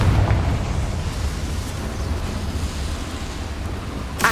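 A Confringo explosion spell blasts in the video game Hogwarts Legacy, a loud, sustained rumbling boom that rolls on for several seconds and ends with a sharp burst.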